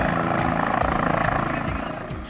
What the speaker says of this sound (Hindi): धूल उड़ाता हुआ हेलीकॉप्टर मैदान में उतरा।